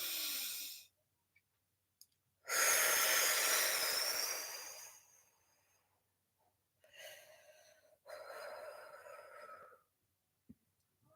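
Several slow, breathy inhales and exhales come close to the microphone as someone takes deep breaths during a guided healing session, with quiet gaps between the long airy rushes.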